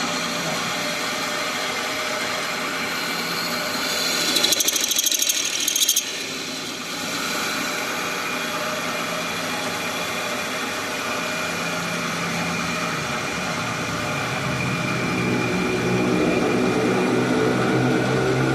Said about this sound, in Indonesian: kita mulai finishing dengan pahat alur